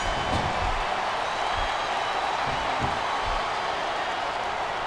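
A capacity arena crowd at a wrestling match in SmackDown vs. Raw 2007 roars in a steady, dense wash of cheering and noise, heard on its own without commentary.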